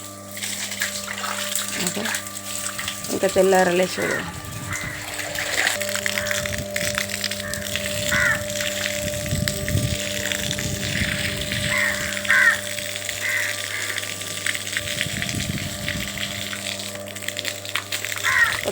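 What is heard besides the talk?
washing leaves with running water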